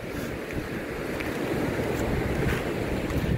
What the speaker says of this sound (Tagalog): Ang lakas nga ng alon.